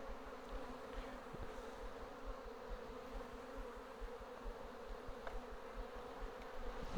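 A steady, low hum of many honey bees buzzing together inside a hive, continuous and dense, with no voices.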